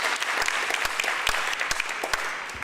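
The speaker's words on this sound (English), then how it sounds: "I'll request the House to join me in giving a big round of applause to our Minister." A crowd in a House gives a minister a big round of applause, with dense sustained clapping that stays loud throughout and has no talk over it.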